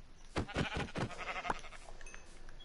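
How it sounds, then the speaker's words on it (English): Sheep bleating in the video game Minecraft, a few short wavering bleats close together, faint and clear against a quiet background. "There's a sheep. Let's kill him."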